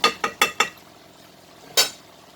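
A spoon scrapes and taps through a pan of meat curry with coriander, cumin, turmeric, curry powder and chili powder: four quick strokes in a row, a pause, then one more, close and moderately loud.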